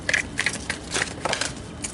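Tarot cards being shuffled by hand, a run of soft papery riffles and flicks repeating in uneven bursts, close and fairly quiet with no talking.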